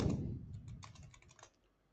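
Rapid, close keyboard clatter as C code is typed on a computer keyboard: a dense burst of keystrokes that thins out into a few scattered taps before stopping.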